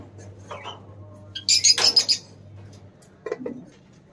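Pigeons in a rooftop cage give a few scattered chirps and squawks, with one brighter burst of calls in the middle and a couple of softer calls after, over a low steady hum.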